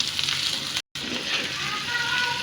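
Bitter gourd with a little turmeric fries in hot oil, giving a loud, continuous close-up sizzle and crackle that drops out for a split second, with no one talking.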